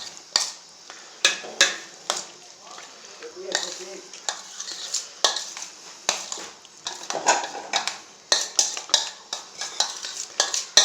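Fruit chaat being mixed with spices in a bowl, heard as a run of quick, close scraping and clattering strokes of a spoon against the bowl, repeated unevenly throughout with no voices.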